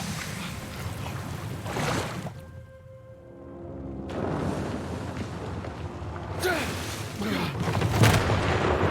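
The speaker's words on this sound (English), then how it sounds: "You see the cannons going." Cannon fire in the action game Uncharted: Legacy of Thieves sounds as heavy, rolling booms set among a dense battle and sea-like din, with a few quieter lulls between the blasts.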